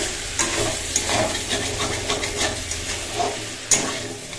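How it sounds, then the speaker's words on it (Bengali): Goat meat sautéing in a pan, a steady close sizzle broken by intermittent scraping and stirring clatter, with no voices. "মাংসটা পুরো সম্পূর্ণভাবে কষা হয়ে গেছে"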